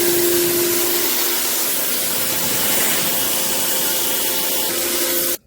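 A Le Hao electric pressure washer fitted with its widest nozzle sprays a loud, steady hiss of water close by, cutting off abruptly at the end.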